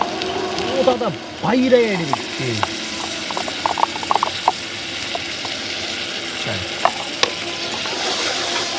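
Ginger garlic paste sizzles in a pan of oil with lightly browned onions while a tilapia bhuna cooks, a steady near frying hiss with stirring scrapes and clicks, under a voice talking.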